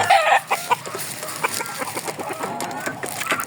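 A hen clucks near her eggs in a nest, giving loud, close, repeated clucks and squawks in an uneven rhythm.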